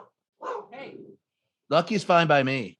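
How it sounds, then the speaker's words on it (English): A dog barks indoors in short, loud bursts while someone talks nearby, with speech and barking overlapping during an interview. "Sorry, I apologize for the dog freaking out."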